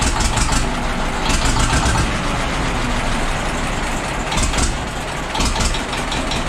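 A Famulus tractor or Deutz stationary engine runs loud and close after starting for the first time in two years, a steady rough idle with periodic surges and no talking.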